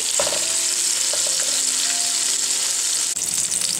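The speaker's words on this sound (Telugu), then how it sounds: "ఎగ్స్ అన్ని యాడ్ చేసుకున్న తర్వాత ఒకసారి బాగా మిక్స్ చేసుకొని మనకి కొంచెం గోల్డెన్ బ్రౌన్ కలర్ వచ్చేంత వరకు ఫ్రై చేసుకోవాలి" Boiled eggs sizzle steadily in hot oil in a pan for egg kurma, a loud continuous frying hiss with occasional stirring clinks and no talk.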